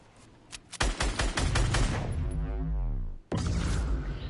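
Gunfire cracks out as a sharp rapid burst of repeated shots, loud and close, followed by a brief pause and another blast.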